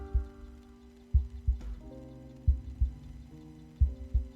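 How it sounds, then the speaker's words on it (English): A slow, low heartbeat thuds in a horror video game, Tainted Cuts, the beats coming in pairs and spaced unevenly over a steady low hum and sustained musical drones. "All I can hear now is Caleb's heartbeat, and then it slowly fades into the distance"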